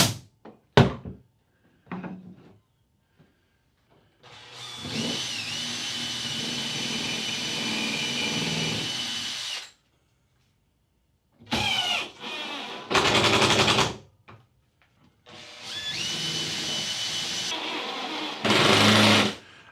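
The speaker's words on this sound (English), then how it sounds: "I'm going to use a pin to hold it while I drill and drive a screw." Pinning, drilling and screw-driving into a saw-fence mounting bracket: sharp taps, then long whirring bursts from a cordless drill/driver, stopping and starting several times, close and loud.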